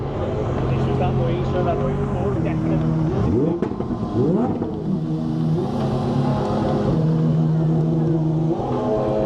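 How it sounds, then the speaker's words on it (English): A Pagani Huayra R supercar roars in a street at a car show, its engine droning loudly with quick revving swells that rise and fall. Crowd noise sits faintly underneath. "one of the loudest cars of the entire show, the Wyra R."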